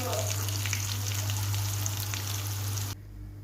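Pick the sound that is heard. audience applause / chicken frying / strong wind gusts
chicken frying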